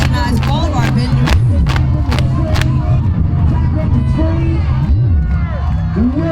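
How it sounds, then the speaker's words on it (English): A large outdoor crowd at an evening Pride celebration in Newark cheers and claps, with whoops and loud babble filling the air continuously. "give yourselves a round of applause if you walked today"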